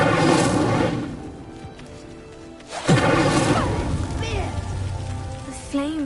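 Incendio fire spell igniting a pyre in Hogwarts Legacy: a burst of crackling flame and a low whoosh over steady rain-like ambience, with brief game sound effects following.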